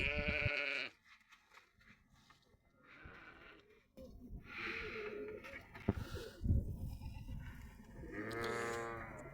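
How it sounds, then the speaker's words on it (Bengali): Large goats on a desert farm, being fed wheat, bleat loudly and close by in two drawn-out calls, one at the start and one at the end, with quieter rustling and movement between them. "এই যে অনেক সুন্দরভাবে ছাগলকে গম দিছে আর এই ছাগলগুলা অনেক বড় বড় ছাগল"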